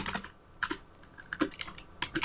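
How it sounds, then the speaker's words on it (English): Keys clacking on a computer keyboard while someone types Java code, in short irregular bursts of close, crisp strokes with brief pauses between them. "And I'm just going to type"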